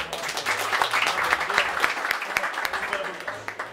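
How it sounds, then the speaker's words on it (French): Audience applause for a speaker at a Tunis digital-industry meetup, a dense patter of clapping that runs steadily through the moment with some voices mixed in. "On applaudit très très fort Tarek."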